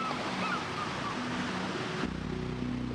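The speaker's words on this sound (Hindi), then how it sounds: "ये ऊबड़ खाबड़ समुद्र तट का एक खुला हिस्सा है।" Waves breaking along an exposed, rugged stretch of open sea coast, a dense continuous wash of surf and wind roaring steadily throughout, with faint tonal sounds drifting above the noise.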